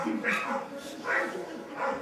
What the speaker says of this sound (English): Why do your dogs bark so?